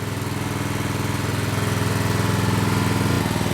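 Trash-picked Generac/Briggs & Stratton 4000XL generator running at idle: a steady, loud, close engine drone with an even pulsing rhythm that continues throughout.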